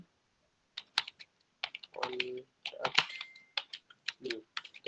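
Keys click in quick, uneven bursts as an Instagram caption is typed on a computer keyboard, close and crisp, with brief speech fragments mixed in.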